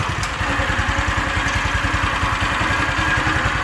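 A Weima WMX650 walk-behind tiller's engine runs steadily nearby, a close, even mechanical chug with a fast regular pulse and no talk over it.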